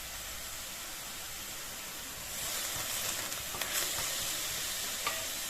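Onions sauté in a pan with a little salt, giving a soft, steady sizzle that grows louder partway through as stirring adds scraping and a few sharp clicks.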